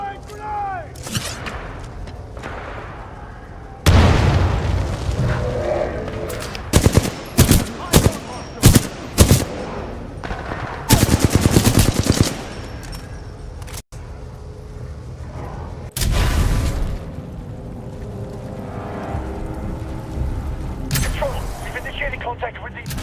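Titanfall 2 campaign combat: bursts of automatic gunfire and heavy shots crack out in clusters, with grenade blasts and loud impacts between quieter stretches, while in-game soldiers shout callouts over the fighting.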